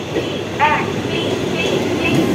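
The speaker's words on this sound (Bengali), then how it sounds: "Local coach train." A local train rumbles at Titagarh railway station, a steady low drone with faint metallic tones rising briefly. Station ambience and distant voices blend in.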